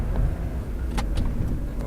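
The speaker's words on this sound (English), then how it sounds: "So I'm just heading towards a country road at the moment, so I can talk about how I find the car drives" A Mazda MX5 1.8, nearly twenty years old, drives toward a country road, giving a steady close engine drone and road rumble heard from inside, with a few faint clicks and no talking.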